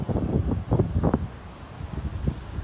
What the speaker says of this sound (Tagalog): Grabe ang hangin. Andito kami sa dagat.